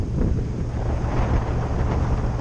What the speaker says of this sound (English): Probably tough to hear me over the wind